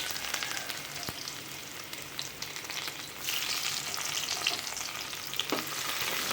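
Urad dal, cumin seeds and chopped onion sizzle steadily in hot oil for tomato rice, a dense, loud frying hiss broken by stirring scrapes against the pan, with no voices.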